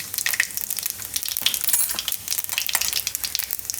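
Mustard seeds, cumin and asafoetida crackle and sizzle steadily in hot oil, a dense, close frying hiss with scattered pops, no voices.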